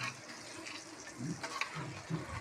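Warm water poured into a pot of chicken leg curry, a steady splashing trickle lasting a couple of seconds, close and moderately loud.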